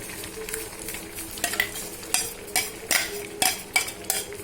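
Ground spice paste for a Sourashtra-style drumstick-leaf chaaru goes into a hot cooking pot, giving a steady frying sizzle broken by several sharp scraping stirs and spoon clinks, close and moderately loud, with no talking.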